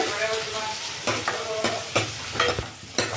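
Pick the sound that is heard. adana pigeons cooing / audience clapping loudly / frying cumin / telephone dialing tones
frying cumin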